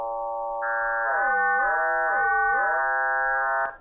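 Two synthesized SuperCollider tones with base frequencies of 800 and 1500 play together as a steady, harmonic-rich drone that bends and wobbles in pitch midway through, then cuts off abruptly near the end; nothing else is heard.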